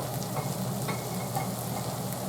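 Refried beans simmer in a pan with a steady low bubbling sizzle while a spoon occasionally scrapes and stirs through the contents.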